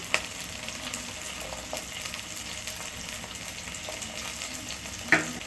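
Onions sauté in a hot pan for a mint and coriander chutney, giving a steady close sizzle throughout. A spoon scrapes and clinks against the pan near the start and again near the end.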